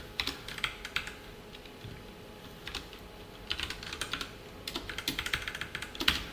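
Someone types C code on a computer keyboard: quiet, intermittent bursts of rapid key clicks separated by short pauses, with no talking.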